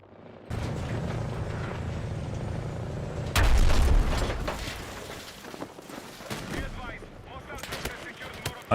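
Video game gunfire from Battlefield 6: dense bursts of shots and booming blasts roll continuously across the clip, loud and close, with a heavier thumping stretch in the middle and mixed battlefield noise throughout.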